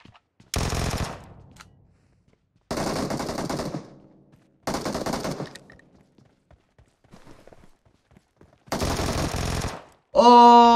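Loud bursts of automatic gunfire in a battle royale video game, four separate volleys of about a second each, separated by short quiet gaps, with a brief electronic tone at the end.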